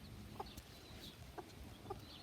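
A few soft clucks from chickens, including a mother hen, come at irregular intervals, quiet and somewhat distant over a low background hiss.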